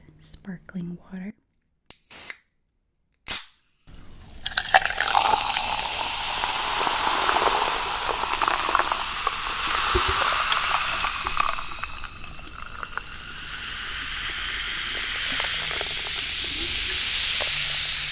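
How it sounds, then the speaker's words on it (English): Watermelon-flavored sparkling water fizzing close up as a steady, soft hiss that runs continuously after a few brief whispered sounds at the start. "watermelon flavored sparkling water."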